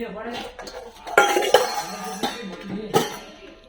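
Heavy hammered-finish metal cooking pots being handled at a shop, a string of sharp clanks and ringing clinks at close range, uneven in rhythm, with faint background voices.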